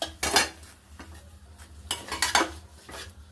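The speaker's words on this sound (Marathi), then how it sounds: "दुधाला उकळी येते तोपर्यंत आपण खवा थोडा भाजून घेऊ" Khoa (milk solids) roasting in a pan as it is stirred, with a utensil clattering and scraping against the pan in several uneven bursts. The strokes are close and moderately loud, and no one speaks.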